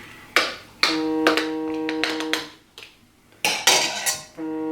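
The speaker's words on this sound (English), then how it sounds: "I'm just going to pack these last jars" Glass canning jars of BBQ green beans being handled and packed, with sharp clinks and ringing glass knocks spaced irregularly, close and fairly loud, some tones lingering.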